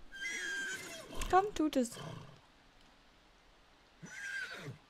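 Horses in The Sims 3 Pets whinny loudly in a game, one long neigh followed by a second shorter one, while someone speaks German briefly between them.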